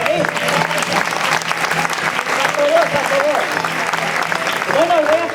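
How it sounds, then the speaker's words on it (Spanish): Audience at a Fiesta Mayor show at a cultural centre clapping steadily and loudly, with voices and cheers rising over the applause at moments. "¿Podéis aplaudir?"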